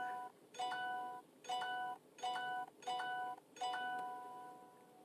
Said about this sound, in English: Okay, other phone. You can stop notifying me about things.